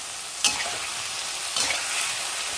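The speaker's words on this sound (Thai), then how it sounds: "ผัดเร็วๆค่ะ" Eggplant and ham-style pork being stir-fried fast in a hot pan, a steady sizzle broken by two sharp scraping strokes of the spatula, close and with no talking.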